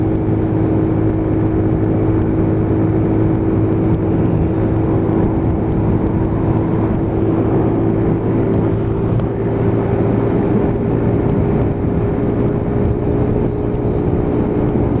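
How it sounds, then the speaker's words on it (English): A Lexmoto Titan motorcycle runs at full throttle down a dual carriageway at about 60 mph, giving a loud, steady engine drone with a constant pitch and wind rush for the whole stretch, with no talk. "full speed run, full throttle down the dual carriageway"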